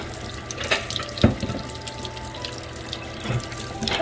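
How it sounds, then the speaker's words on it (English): Tap water runs steadily into a sink with a constant rushing hiss and a few splashy surges, close by, while a person speaks a couple of short words. "can you turn the water on?"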